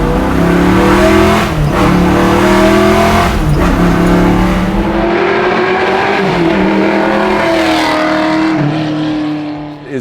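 A 1965 Ford Mustang coupe hot rod with a 289 V8 and a Holley carburetor revs hard and close, its loud engine note rising and dropping through several sharp throttle blips before settling into a rough idle.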